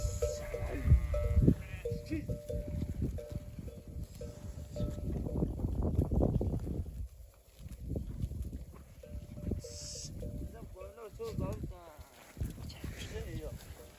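Sheep bleat repeatedly, some close and some farther off, over a steady outdoor background with a voice talking now and then.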